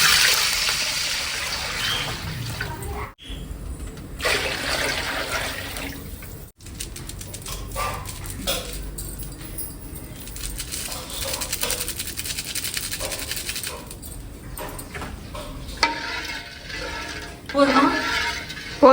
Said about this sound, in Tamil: இதுலேயே வந்து நான் தண்ணி ஊற்றிடுறேன்.